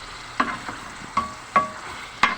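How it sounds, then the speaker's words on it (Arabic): Chicken fries in ghee with a soft sizzle underneath, while a few sharp clinks and scrapes of stirring come at irregular intervals, close and without speech. "اهيت الفرخه اهي. بدحفلها كده في السمنه"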